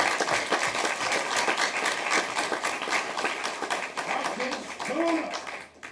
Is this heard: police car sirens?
no